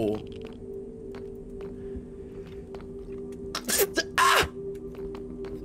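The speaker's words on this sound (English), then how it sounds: "That hurt my back to sneeze." A single loud, sharp sneeze bursts out near the mic, with a quick intake before it, over a steady low hum from Minecraft gameplay and light background noise.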